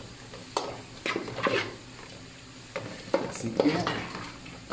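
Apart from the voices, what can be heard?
shrimp sautéing in a sauce base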